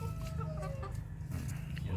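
Polish and Light Brahma chickens cluck close by in a chicken run, short chirpy calls rising over a steady low outdoor rumble.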